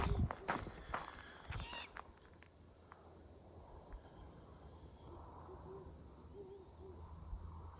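An owl hooting at night in a canyon at Magic Mesa, faint and distant: a few soft low hoots come after close footsteps and rustling on the ground die down.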